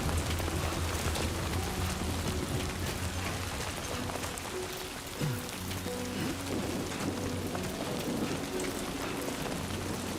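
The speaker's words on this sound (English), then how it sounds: "Already raining." Rainfall in the video game Death Stranding 2, a dense, steady patter of drops on surfaces lasting throughout, moderately loud over a low tonal game soundscape.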